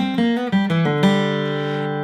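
Acoustic guitar picks a short bluegrass lick, opening with quick grace-note hammer-ons and slides before a few ringing notes that sustain and fade; played solo, close and clear.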